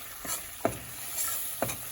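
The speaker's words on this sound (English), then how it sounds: "Put the flour in there. You mix it." Flour being stirred into bubbling butter in a pan on medium-low heat for gravy, with a few distinct scraping strokes over a soft, steady sizzle, close and fairly quiet.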